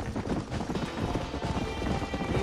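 Horses gallop at high speed in the Red Dead Redemption video game, a dense, steady run of hoofbeats that stays loud and close throughout with no talk over it.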